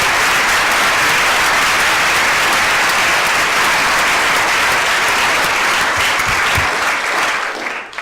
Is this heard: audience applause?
yes